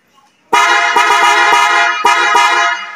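The stock horn of a 2023 Nissan Patrol blares in close, repeated honks, several short blasts run together in a sustained, brassy tone.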